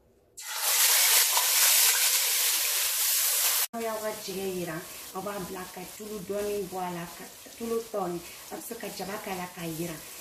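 Chopped onions and leek fry in oil for a Senegalese fish-and-rice dish, first as a loud, bright hiss, then as a quieter sizzle under a person talking.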